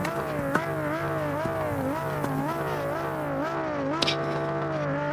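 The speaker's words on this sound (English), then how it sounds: "Drivers revving their engines." Engines rev on a starting grid in the BeamNG racing game, a single strong rising-and-falling whine cycling repeatedly over a steady low hum, with a sharp click or two in between.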